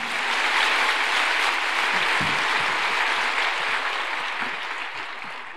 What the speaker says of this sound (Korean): 우리 박수로 주님께 감사함을 환영하겠습니다